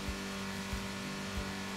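Car engine revving in the Roblox game Drifting Race Simulator, a steady loud electronic drone with three short low thumps, continuous and alone with no talk.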